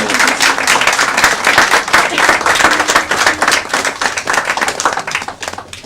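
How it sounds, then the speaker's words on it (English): An audience claps for a group of young women at a community event, a lively round with some individual claps standing out, loud and near, sustained and then tapering slightly at the close. "can we have another round of applause for all the young ladies?"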